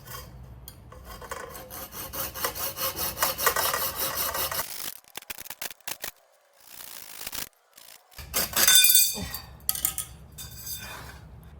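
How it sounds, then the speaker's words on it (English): A mini hacksaw rasps back and forth through a metal curtain rod in quick, steady strokes, pausing briefly before another burst of loud, close sawing. "use it to help cut this curtain rod with my trusty mini hacksaw"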